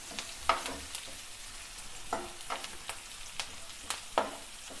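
Onions fry softly in a pan while a spoon stirs them, producing scattered scraping clicks every half second or so over a low, steady sizzle, close and quiet.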